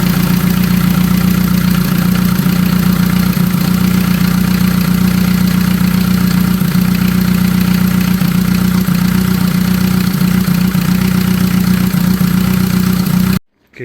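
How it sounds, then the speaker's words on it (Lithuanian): Jeep engine idling steadily after a timing belt repair, a close, continuous low drone with light mechanical clatter that runs unbroken before cutting off abruptly at the end. "pradžioje biški pastraglino variklis, bet prasidirbo ir gyvens"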